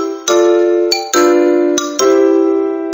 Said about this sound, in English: a xylophone sounds like this